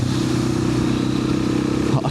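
A KTM 690 SMC supermoto motorcycle ridden on bumpy back roads, its single-cylinder engine giving a steady throbbing drone close by, with someone talking over it.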